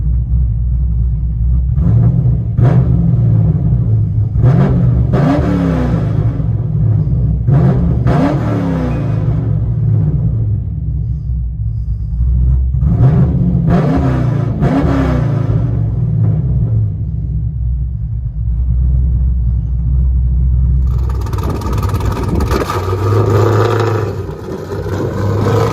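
A 2012 Chevrolet Camaro with a loud exhaust revs repeatedly from inside the cabin, several deep rising engine surges over a constant rumble, followed by a rougher, clattering stretch near the end.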